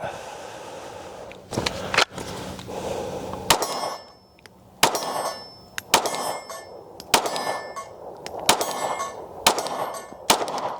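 Pistol rounds strike a steel target, each shot followed by a sharp metallic clang and ringing ding, about a dozen hits in an irregular rhythm, with a voice faintly heard between them.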